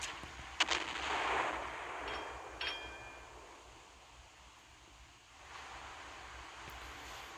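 Naval gunfire in the warship game Naval Creed, a few sharp cannon blasts early on that fade into a long wash of sea and wind noise, with no talking.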